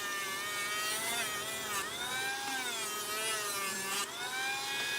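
A sanding disc grinds along the edge of a paper model of a Star Wars Hammerhead Corvette, giving a steady, quiet motor whine whose pitch dips and recovers as pressure changes, with no talk.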